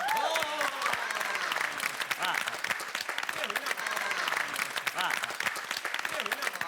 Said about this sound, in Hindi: आप लोग अपने लिए जोरदार तालियां बजाएं